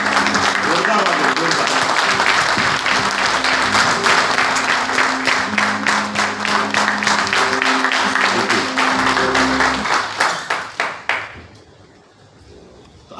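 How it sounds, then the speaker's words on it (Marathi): Audience at an award celebration bursts into loud, sustained applause, a dense wash of many hands clapping that continues steadily, then thins into a few scattered claps and fades out near the end. "एकदा संतोष सरांसाठी एकदा जोरदार टाळ्या झाला."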